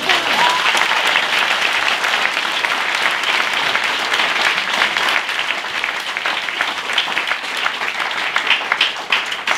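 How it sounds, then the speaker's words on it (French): Sustained, dense audience applause fills a French stand-up comedy show, loud and even for nearly ten seconds with no voices over it. "on peut applaudir"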